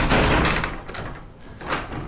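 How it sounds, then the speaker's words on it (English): A door swings open onto the rooftop terrace of an apartment in Rome, a broad rushing swish with a couple of soft knocks, heard close and fairly loud. "the door opens like that"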